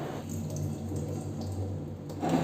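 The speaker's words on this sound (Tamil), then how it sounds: "இந்த சேமியா வந்து 2-3 வாட்டி நல்லா கழுவி எடுத்துக்கலாம்." Water sloshes and drips as ragi vermicelli is rinsed in a bowl in a home kitchen, a soft continuous wet rustle with a low background hum, no talking.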